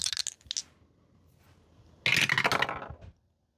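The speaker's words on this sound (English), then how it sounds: "Let's shake the dice." Dice rattle and clatter as they are shaken, a brief sharp burst of clicks at the start followed by a denser, louder rattling run of about a second.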